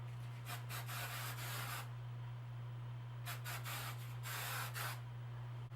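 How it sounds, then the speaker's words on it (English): Hair product sprayed onto hair before curling with a curling wand: two bursts of hissing spray, each made of several quick pumps, close and fairly quiet over a steady low hum. "So let me just give that one spray."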